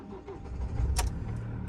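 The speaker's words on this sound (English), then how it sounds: "See if the engine starts." A camper van's engine cranks and fires up in -10 degree winter cold after preheating, with a brief sharp burst at the start followed by a steady low rumble of the running engine close by.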